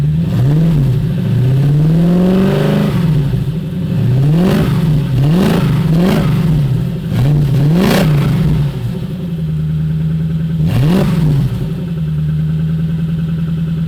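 A car engine idles with a deep throaty rumble through a new exhaust with silencers cut off, and is blipped repeatedly above 1,000 rpm, each rev rising and falling sharply, loud and close, with no talking.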